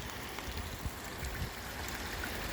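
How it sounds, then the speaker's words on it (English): Water from a stream flows steadily into a property after rain, a soft, continuous rushing hiss with small gurgles, faint and unbroken, with no one speaking. "This is the top of the stream coming into my property."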